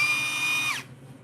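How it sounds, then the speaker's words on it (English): A power drill whirs steadily with a high whine, then abruptly spins down and stops, leaving quiet room tone; close and loud, no talk over it. "To drill things, by the way, there's the drill."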